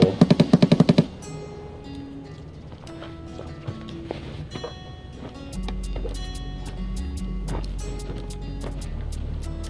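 Automatic rifle fire from a battle royale shooter game, armed with weapons such as the SCAR-H and SVD, opens with a sharp burst of about seven rapid shots. Scattered quieter clicks, thuds and a low rumbling background follow.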